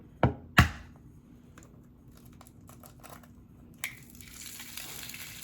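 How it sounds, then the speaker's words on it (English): An egg is tapped twice on an edge, giving two sharp, close cracks, before being dropped into a mini Dash waffle maker; faint small clicks follow, then a soft hiss rises near the end. "I'm just going to crack my egg straight in there"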